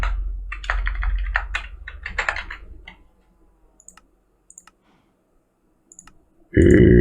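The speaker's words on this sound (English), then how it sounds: "it's just easy to type Neutronium" A burst of rapid keystrokes on a computer keyboard, close and crisp, lasts about three seconds, then a few isolated key clicks fall into near silence before a sudden loud noise cuts in at the end.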